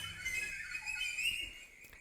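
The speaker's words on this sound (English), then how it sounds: "Soon, the palace filled with princes whistling." Whistling from several people representing princes at a palace, a sustained, fairly loud high tone with wavering pitch that carries steadily before cutting off near the end, with no talking over it.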